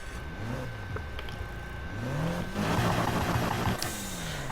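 A sports car engine in the video game Need for Speed Heat revs, its pitch climbing and dropping in repeated surges, loud and steady with a faint high whine above.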